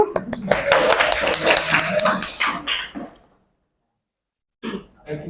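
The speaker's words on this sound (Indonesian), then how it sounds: "Tepuk tangan semua buat temennya yang mau maju." Classmates in a classroom clap for a fellow student stepping up, a dense burst of many hands lasting a few seconds, then silence and a short resumption, with voices mixed in.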